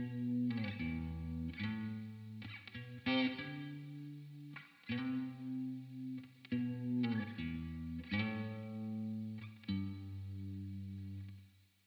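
The bass line of a song played on guitar through a chorus effect, a sequence of plucked low notes and short chord stabs in a relaxed rhythm, soft and clear with no talking.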